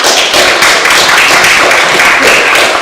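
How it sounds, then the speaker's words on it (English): A school PTA council meeting audience applauds the candidates with dense, loud clapping that holds steady for a few seconds. "can everybody give a round of applause to all the candidates?"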